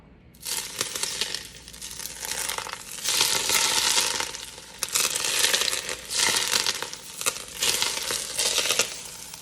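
Hot grease pops and sizzles on wilted lettuce in a long-handled skillet, coming in loud crackling bursts that surge and fade in waves, close and harsh, with no talking.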